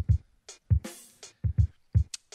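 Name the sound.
live-played drum pattern in a beat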